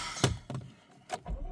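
Door of a Honda HR-V car being shut from inside, a few close thunks and rattles in quick succession with a short pause between them.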